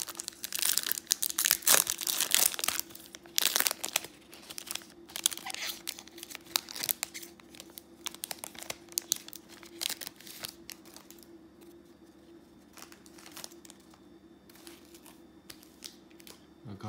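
A 2019 Prizm Football blaster pack wrapper is torn and crinkled open up close, a dense burst of loud ripping and crackling that thins into sparser rustles and faint handling over a low hum.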